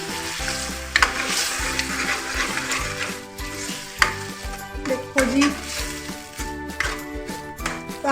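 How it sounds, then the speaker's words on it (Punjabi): Loud, steady sizzling of a tempering for saag in a hot pan, with stirring scrapes and occasional clinks of a utensil against the metal. "ਸਾਗ ਨੂੰ ਤੜਕਾ ਲੱਗ ਚੁੱਕਿਆ ਹੈ"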